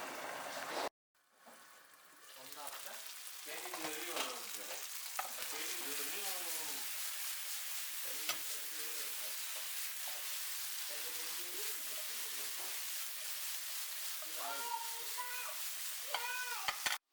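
Tomatoes and potatoes frying in a covered pan give a steady, soft sizzle that runs throughout, with scattered bubbling crackles and a brief silence near the start.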